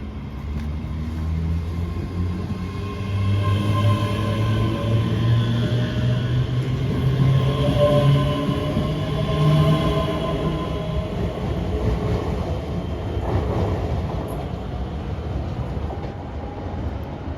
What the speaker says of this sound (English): Departing out now is the 1458 ScotRail service from Glasgow Queen Street